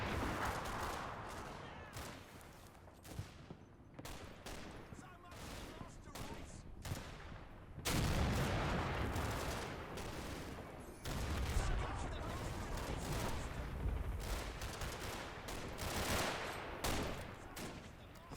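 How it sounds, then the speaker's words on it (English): An artillery battery fires in a World War II style battle video game. Booming shots and crackling gunfire go off in rapid, irregular bursts, with heavy, dense blasts through the middle and end. "It's a battery firing."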